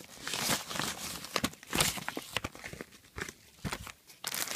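Bubble mailer being cut open, giving a string of close crinkling, tearing and crunching plastic-and-paper sounds in irregular bursts, fairly quiet with no talking.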